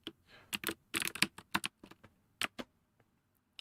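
Computer keyboard clacking in close, quick irregular bursts of keystrokes with short gaps, crisp and fairly quiet, during an ASMR coding session with no talking.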